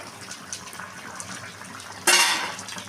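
A lid is lifted off a cooking pot of rupchand fish curry with potatoes, a sudden bright clatter and rush of sound after a quiet, low background.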